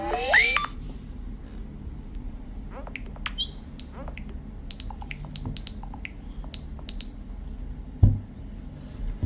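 A Nothing Phone (3) plays a Nothing Signals ringtone of chirpy, bird-like electronic tones. An opening rising sweep gives way to sparse, quick repeated chirps in short pairs over quiet background noise, with a single low thump near the end.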